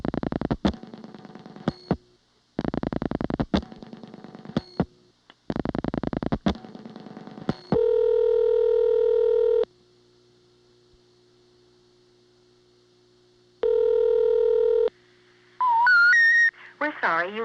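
A 1982 Siemens motor switch telephone exchange in Ocala-Silver Springs, Florida, sends dialed digits as rapid clicking pulse bursts, followed by steady tones and then a rising three-note intercept signal.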